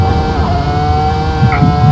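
A Ferrari V10 engine in a virtual-reality racing game screams loud and steady near 19,000 RPM, a sustained high-pitched drone with slight pitch wavering throughout.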